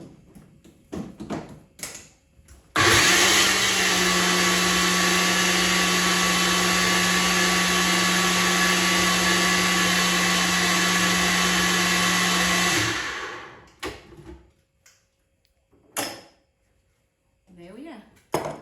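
Blender liquidizing a smoothie for gluten-free pancakes, a loud steady motor whir lasting about ten seconds, starting abruptly and cutting off, with kitchen clatter and brief speech before and after.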